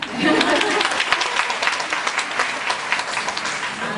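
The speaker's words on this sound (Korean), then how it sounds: "박수 한번 칠까요?" A theater audience at a post-show talk bursts into sustained applause, many hands clapping loudly and continuously from start to finish.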